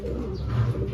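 A racing pigeon that has just returned home gives a low, soft coo close by, a brief murmuring call over steady background noise.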